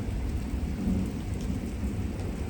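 Springtime severe thunderstorm: a low, continuous rumble of thunder with steady heavy rain pattering on a surface, filling the whole stretch with no voices.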